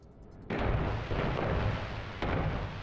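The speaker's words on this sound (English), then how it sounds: "We've got some fireworks going." Fireworks burst in the game No Man's Sky after a completed structure is unveiled, loud booming blasts with a sharp onset and a second burst near the end, crackling rumble sustained between them.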